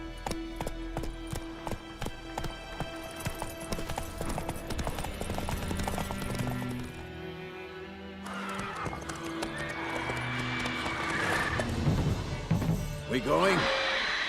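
Roach, a horse in The Witcher video game, clip-clops along with steady hoofbeats and an occasional whinny, layered under game music and ambience, with characters talking at times.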